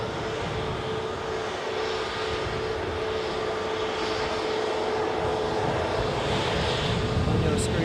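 An Airbus airliner taxis at an airport, its engines giving a steady whining hum that holds throughout, moderately near, with a voice speaking over it.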